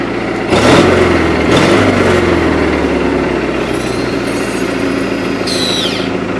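A 20-G engine runs steadily on a trailer after starting, a loud continuous low mechanical drone with a few sharper knocks early on and faint squeaky tones near the end.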